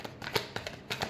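Tarot cards being shuffled in a few short, crisp riffling bursts, close and fairly quiet, with brief pauses between them.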